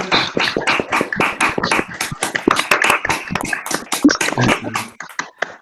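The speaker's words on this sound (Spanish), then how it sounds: "con un fuerte aplauso nuevamente" Scattered, sparse handclaps close up end an online seminar talk, a thin patter of individual claps rather than a full crowd.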